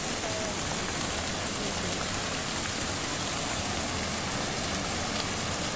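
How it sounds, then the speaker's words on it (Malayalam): Fountain water at Brindavan Garden below the KRS dam sends up a steady, dense splashing rush, loud and unbroken throughout with no voices. "ഇവിടെ നിന്നാണ് വെള്ളം ചാടുന്നത്"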